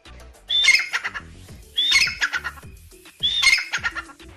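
Three loud, harsh squawking calls from a pheasant, spaced about every second and a half, each a burst of raspy notes with a sharp high onset, close and alone.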